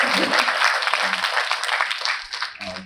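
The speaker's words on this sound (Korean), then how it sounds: "박수 한번 주시고요." An audience at a talk concert claps in a loud, dense burst of applause that carries on steadily and then starts to thin out near the end.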